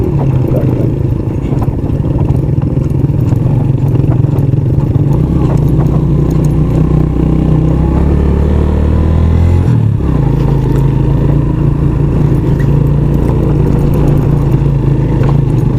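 Vehicles overtake one another on a rough mountain road between Khuzdar and Pir Ibrahim. A loud, steady engine drone runs close by throughout, with its pitch shifting midway, and rattles and clatter sound over it.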